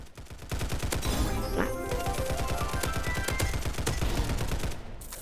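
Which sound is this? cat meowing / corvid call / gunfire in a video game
gunfire in a video game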